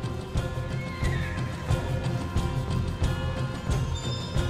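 Horses in Red Dead Redemption 2 whinny and neigh several times over a steady rumble of hooves and game ambience, loud and close, with no speech.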